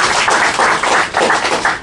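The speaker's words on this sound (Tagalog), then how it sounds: "Palakpak" Audience applause at a Filipino business presentation for Unified Products Services in the UAE, a steady wash of many hands clapping close by, dense and sustained for about two seconds with no talk over it.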